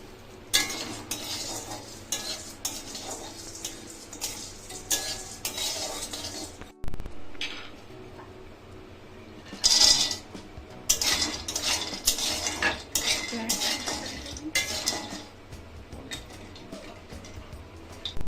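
Watermelon chips being stirred and fried in a pan over low heat, a spoon scraping and clinking against metal in a long irregular rhythm close up, with a faint sizzle and no talk.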